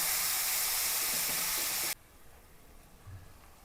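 Onion, shallot, green chilli, ginger and garlic sauté in a hot pan with a loud, steady sizzle that cuts off abruptly halfway, leaving a quiet room with faint low thumps.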